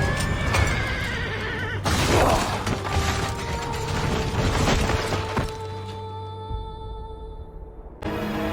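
Horses neigh and hooves clip-clop as they haul a carriage in the video game Assassin's Creed, with a whinny standing out amid dense mechanical rattling and clatter. The game audio stays loud and continuous throughout, with no talk.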